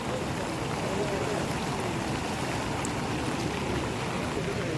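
Floodwater rushes steadily across the submerged Palghar-Manor road near Masvan during heavy monsoon rain, making a continuous broad wash of moderate loudness with no clear voices.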